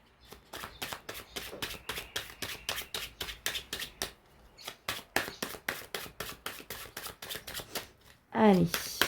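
Tarot cards being shuffled and cut, a steady run of crisp riffling flicks close up, pausing briefly midway, with a louder rustle near the end.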